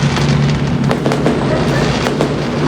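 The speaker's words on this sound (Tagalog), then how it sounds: "Eto na yung fireworks" Fireworks go off outdoors at 7 PM in December, a rapid crackle of sharp pops and bangs at middle distance over a steady low rumble and crowd murmur.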